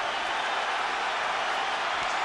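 A boxing arena crowd roars during a pro bout, a dense, continuous wash of cheering noise holding at a steady, loud level with no distinct claps or voices standing out.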